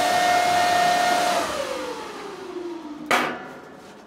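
Bitcoin miner cooling fans in an off-grid barn roar loudly and steadily with a high whine, then spin down after being switched off, the pitch sliding lower until a sharp click and the room drops to near quiet.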